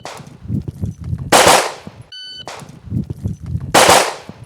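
Two loud gunshots crack out about two and a half seconds apart during a shooting drill at a port, each a sharp blast with a lingering tail, with shuffling movement and a brief electronic timer-like tone between them.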